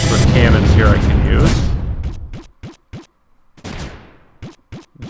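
Cannons firing in the strategy game Creeper World 3 give a rapid series of short, punchy thumps, about a dozen evenly spaced shots after a dense burst of noise.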